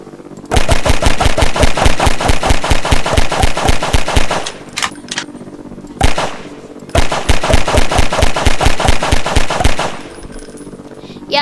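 Rapid automatic gunfire from characters being shot in Garry's Mod, two long loud bursts of evenly spaced shots separated by a brief pause with a couple of isolated pops.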